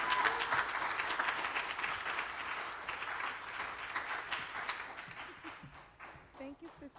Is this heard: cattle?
no